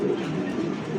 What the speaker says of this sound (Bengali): দুইটাই লাক্ষা কবুতর, আমেরিকান লাক্ষা